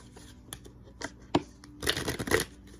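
Oracle cards from a Message of Love deck being handled and shuffled, soft close papery slides and riffles in a few short bursts, busiest near the end, in a quiet room.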